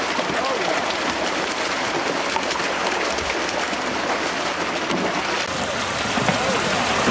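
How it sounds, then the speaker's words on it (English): Water gushes from a stocking truck tank pumping blue and channel catfish into Corona Lake, a steady, loud rushing wash with an abrupt change in tone near the end. "One of three, we're pumping in the catfish here at Corona Lake"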